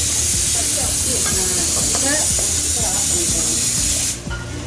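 A pressure cooker vents steam in a kitchen during Sunday non-veg cooking, a loud, steady rushing hiss with faint clinks of utensils beneath it that cuts off abruptly just before the end.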